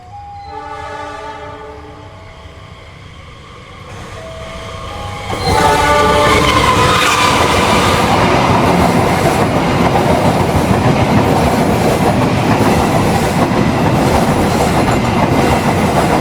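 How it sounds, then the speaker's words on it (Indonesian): The Ciremai passenger train passes through a station, opening with a loud horn blast and then a long, close roar of wheels and carriages clattering past, steady and loud to the end. "itu dia kereta api Ciremai telah melintas di stasiun Maswati."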